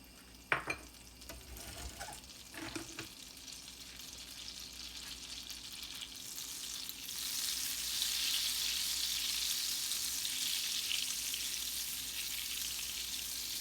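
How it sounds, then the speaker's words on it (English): A half slice of butter dropped into a hot pan on the stove for lamb chops, a couple of sharp knocks at first, then a quiet sizzle that swells into steady, louder frying hiss. "Now that our stove is hot, we will put in our half slice of butter"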